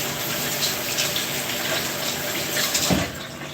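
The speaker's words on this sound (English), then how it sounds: "Rinse your avocado." Tap water runs steadily into a sink while an avocado is rinsed under it for breakfast prep, a continuous close splashing gush with a brief louder surge near the end.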